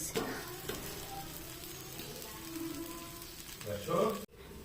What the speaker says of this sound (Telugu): ఇది పెసరట్టు కదా, సో మంచిగా కాల్చుకోండి